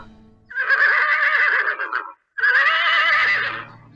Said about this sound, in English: that horse began to buck and buck